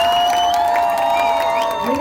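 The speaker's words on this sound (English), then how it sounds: "big round of applause for the newly couple" Crowd at a São João festival celebration in Siolim claps and cheers for a newly married couple, a steady wash of applause with a few whoops, loud and close, filling the whole moment.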